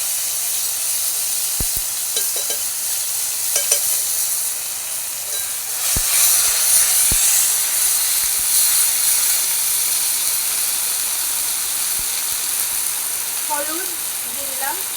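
Ground spice paste of chilli, ginger and cumin frying in hot oil with cumin seeds, dried red chillies and bay leaves, a loud hissing sizzle that swells midway with a few sharp clicks and clatters.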